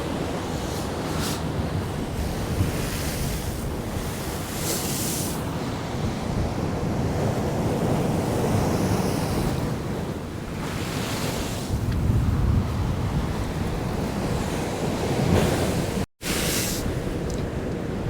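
Rough sea surging against a seaside promenade, waves crashing and washing in long rolling swells close by, mixed with steady gusts of wind buffeting the microphone, with no voices.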